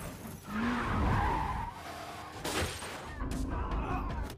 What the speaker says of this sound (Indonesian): Eka langsung menabrak mobil anak buah Bejo yang membawa Rama